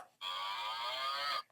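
An electronic toy plays a single drawn-out cow moo, a buzzy tone lasting just over a second, close and clear with no talking.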